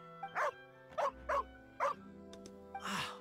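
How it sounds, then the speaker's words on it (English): A dog in the video game Genshin Impact barks several times in quick, spaced yaps, close and clear, ending with a rougher, longer bark. "I want him to bark back."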